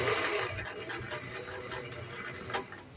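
A vintage Singer 411G sewing machine running steadily, giving a continuous close mechanical whir with a fast rhythmic needle clatter that keeps the same pace throughout, without any voices.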